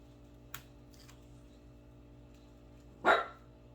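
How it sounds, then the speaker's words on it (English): A single sharp dog bark rings out indoors at home near the end, after a faint click, with no talk. "it's that time of the day for barking, I guess"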